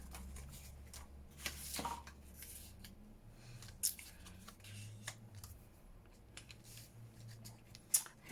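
Scissors snip through paper for a winter botanical junk journal, a few short, quiet cuts spaced irregularly with soft paper handling in between, close and alone.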